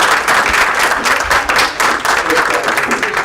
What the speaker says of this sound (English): How about a round of applause for Roy?